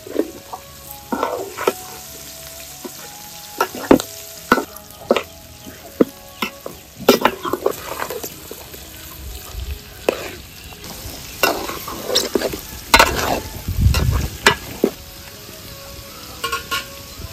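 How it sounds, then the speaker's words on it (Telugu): Chopped onions and brinjal pieces frying in a pan for Andhra masala stuffed brinjal curry, with steady sizzling under repeated scraping and stirring clatter of a spoon against the pan. "ఇప్పుడు కోసి పెట్టుకున్న ఉల్లిపాయ ముక్కలు వేసుకోవాలి."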